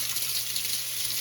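Water running steadily from a tap onto an Arctic Air 2.0 evaporative cooler filter, soaking it thoroughly; a constant close gush with no voices.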